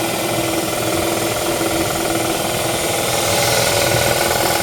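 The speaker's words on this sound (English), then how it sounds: "this is a compressor running the airlift, the tandem airlift. It's an Ingersoll-Rand pump." An Ingersoll-Rand model SS-3 air compressor runs at about 20 PSI, driving a tandem airlift water well pump in Elgin, Texas, with a loud, steady, rapid mechanical pounding that holds throughout, close by and alone.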